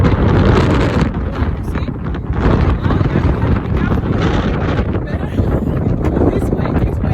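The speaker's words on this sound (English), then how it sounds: "It is super windy." Strong wind buffets the microphone in a steady, loud low roar that barely lets up for the whole stretch.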